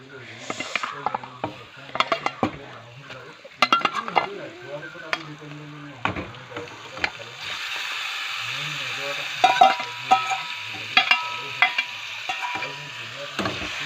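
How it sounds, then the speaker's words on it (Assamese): Meat and onions stirred and fried in a pan, a steady sizzle running throughout with repeated scraping and clattering strokes of the stirring spoon, close and fairly loud, no talk. "এতিয়া মই মাংসখিনি ভালদৰে লৰাই দিম যাতে মাংসখিনিৰ গাত পিঁয়াজখিনি লাগে"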